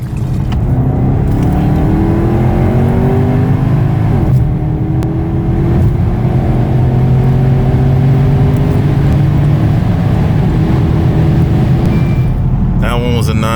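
A tuned Porsche accelerates hard down a drag strip, its loud engine note climbing steadily through the gears in rising sweeps, with brief shift breaks around four and twelve seconds and no talk.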